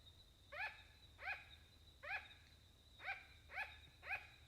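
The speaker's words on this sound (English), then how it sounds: "Nah, it's a sugar glider." A sugar glider gives a series of six short, sharp dog-like yaps, spaced roughly half a second apart, with a steady low hum underneath and no voices.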